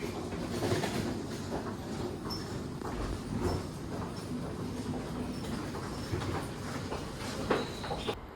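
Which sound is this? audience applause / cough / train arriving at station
train arriving at station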